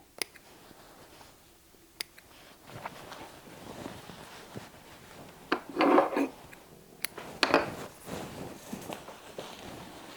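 Seam ripper or fingers working through a pants waist seam, giving scattered soft rubs, small taps and a couple of brief raspy tearing bursts, close and fairly quiet with no talk.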